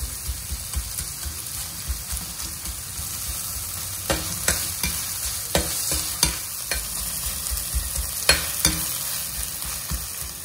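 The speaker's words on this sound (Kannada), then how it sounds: "ಇದು ಅವಾಗ ತನಕ ಲೋ ಫ್ಲೇಮಲ್ಲಿ ಇಟ್ಟೆ ಇದನ್ನು ಫ್ರೈ ಮಾಡಬೇಕು" Onions frying slowly over a low flame for Mangalorean Konkani pork indad, a steady close sizzle with repeated sharp scrapes and taps of a spoon stirring through the pan, no voices.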